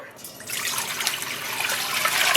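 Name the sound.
pouring water into a container for dyeing wool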